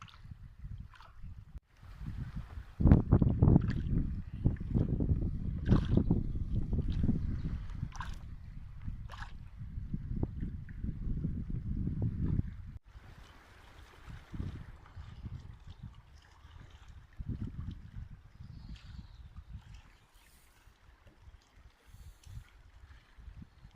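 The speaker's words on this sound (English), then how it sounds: "the wind ripping through that side" Gusty wind rips across a lake with whitecaps around a small trout-fishing boat, making a heavy, close buffeting rumble that swells for several seconds and then eases to a lighter, intermittent wash.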